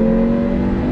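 Engine of an original Audi Quattro downshifting into second gear for a corner on track, a steady loud close droning note with no break across the short moment.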